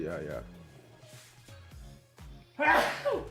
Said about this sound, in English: I'm gonna sneeze 1 sec.